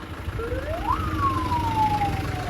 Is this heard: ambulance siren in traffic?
yes